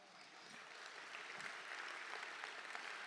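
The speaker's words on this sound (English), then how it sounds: "Can you give our sponsors a round of applause?" Trade show lunch attendees applaud the sponsors, a soft, even wash of many hands clapping, faint and distant, continuing steadily through the moment.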